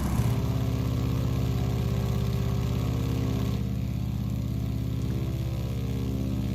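A steady, loud seven-cylinder radial engine of a Stearman biplane in a flight simulator game drones at a constant low rumble with a throaty, pulsing texture, continuous throughout with no voices.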